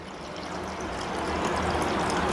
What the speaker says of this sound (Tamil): தேவையான அளவு பாலை சேர்த்துக்கோங்க.